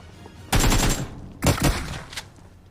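Shotgun blasts ring out in a BGMI firefight: a loud first shot, a pair of quick follow-up shots about a second later, then a fainter single report, each dropping back to quiet.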